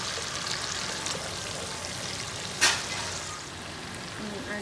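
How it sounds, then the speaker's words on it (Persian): Steady broadband sizzle of food frying in a pan while making the Persian sweet ay khanom, continuous and close, with a brief louder crackle near the middle. "حالا هم سرخش می کنم."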